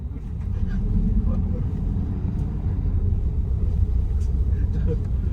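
Low engine rumble and road noise from inside a large moving Kenzo Trans coach bus, steady throughout, with people talking faintly over it.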